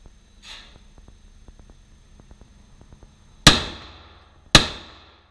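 Two sharp pistol shots crack in quick succession at an indoor shooting range, loud and close, with a ringing decay after each; faint clicks and handling noises come before them.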